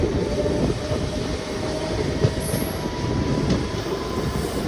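A MEMU passenger train runs between Machilipatnam and Vijayawada, heard from on board as a loud, continuous rumble of wheels on rails with faint clatter and a brief high squeal, and no voices.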